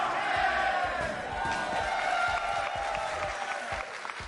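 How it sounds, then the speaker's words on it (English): A small but lively crowd at a Rocket League world championship esports event cheers and chants with a steady rhythmic pulse, loud and close, sustained without a break. "Hear the chants?"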